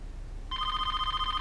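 A telephone rings in the Trauma Team video game, a steady electronic bell tone starting partway through and continuing unbroken to the end, clear over a quiet background.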